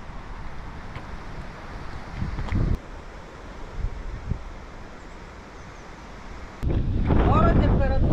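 Strong wind buffeting the microphone on the Baltic seashore at Juodkrantė, a steady roaring rush that gusts louder near the end, with surf and no speech.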